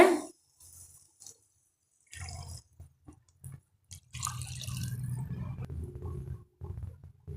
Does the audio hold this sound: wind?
no